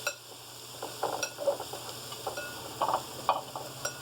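Spoon stirring and scraping through sticky sauce in a bowl, coating vegan Chinese-style ribs, with soft clinks and wet smacks in short irregular bursts over a faint steady background hum.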